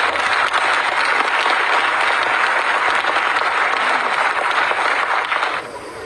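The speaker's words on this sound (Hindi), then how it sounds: "लिए जोरदार ताली से" A crowd at a Chhattisgarh board chairman's swearing-in ceremony gives loud applause for the Chief Minister; thick, sustained clapping holds steady for several seconds, then eases slightly at the close.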